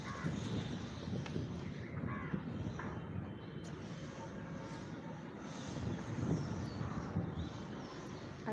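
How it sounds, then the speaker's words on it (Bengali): Wind rushes across a rooftop in a constant low buffeting roar against the microphone, with crows cawing faintly in the distance. "ছাদে প্রচুর হাওয়া চলছে"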